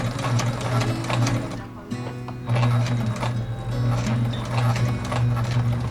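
A sewing machine stitches webbing onto canvas for a torn sailboat mainsail, running in a loud, steady mechanical whir with rapid needle strokes up close and a short pause partway through.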